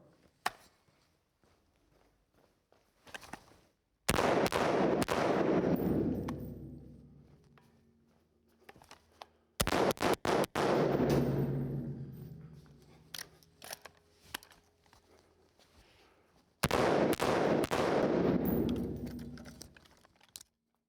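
Full-auto bursts from an IWI Tavor 7 bullpup rifle fired in a tight indoor hallway, three loud blasts spaced several seconds apart, each with a long reverberant decay trailing off in between.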